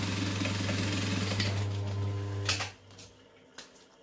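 A sewing machine stitches a backpack seam in a fast, steady, close-up whir that stops partway through, followed by a few light clicks and knocks of fabric handling.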